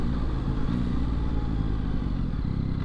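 A 2022 Yamaha XSR900 motorcycle rides along with a steady, loud engine drone, its rumble and rushing wind continuous and close, with no speech.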